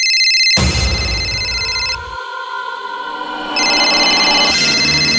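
A telephone rings in a tense police-station scene, a loud electronic ring with two bursts separated by a quieter pause, heard alone without voices.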